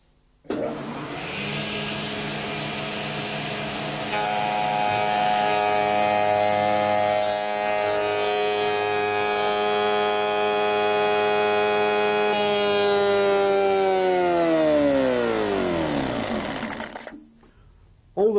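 Spindle moulder cutting a wood profile: the motor whines up to speed, then the blade bites and a loud sustained buzzing whine holds for several seconds before the pitch sweeps down as the machine spins to a stop.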